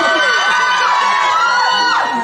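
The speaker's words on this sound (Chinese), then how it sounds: "为了化解这个尴尬，我们就来尖叫一下好了" A temple carnival show crowd screams and cheers loudly and continuously, with high whoops and shrieks rising over the dense roar throughout.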